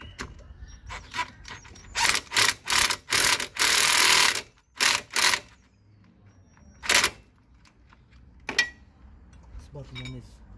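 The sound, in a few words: impact gun driving in Ford Focus brake bolts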